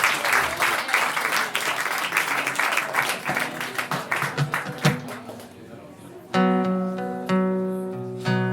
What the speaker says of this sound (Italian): facciamogli un applausissimo perché se lo merita